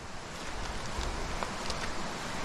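Riverside water rushing steadily in the Philippines, a dense continuous wash close to the microphone with faint wind buffeting and no talk.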